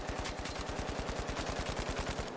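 Heavy automatic weapon in a video game firing one long, rapid, unbroken burst of evenly spaced shots, loud and dense from start to finish.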